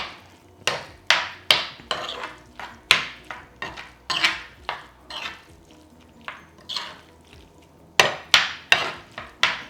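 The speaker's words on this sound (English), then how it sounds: "Give it a little crumble. Stir that through." A spoon stirs crumbled feta through a Mediterranean vegetable filling for stuffed courgettes, loud scraping strokes against the pan in an irregular rhythm with brief pauses, close up and without talk.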